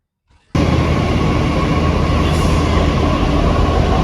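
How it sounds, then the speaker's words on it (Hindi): A Delhi metro train at a station, a sudden onset of loud, steady rumbling roar that continues throughout, close and dominant with no speech. "फाइनली अब मैं मेट्रो स्टेशन पहुंच गई हूँ।"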